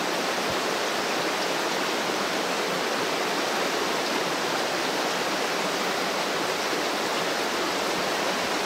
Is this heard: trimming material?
no